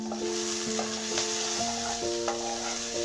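Crispy chilli baby corn fries in a pan over a raised gas flame, giving a steady sizzle with stirring scrapes, while sustained musical tones ring underneath.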